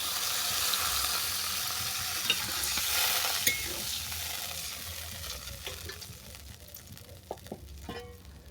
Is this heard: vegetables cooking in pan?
yes